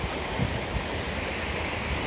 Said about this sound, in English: a GWI pipe leaking